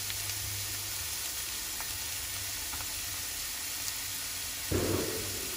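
Onion frying in a pan while browning, a steady close sizzle and hiss under a faint hum, with a louder burst of sizzling near the end as something more is added.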